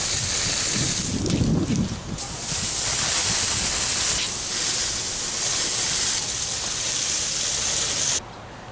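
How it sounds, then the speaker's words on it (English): A high-pressure spray hisses steadily as it blasts debris out of holes drilled in a concrete driveway, running near and loud for about eight seconds before cutting to a quieter hiss. "I sprayed out the holes to get any debris out."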